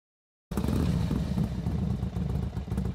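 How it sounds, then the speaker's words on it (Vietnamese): A motorcycle engine runs steadily and close by for a few seconds, with a loud, throbbing low rumble and some mechanical clatter, starting abruptly after a short silence. "Xe máy."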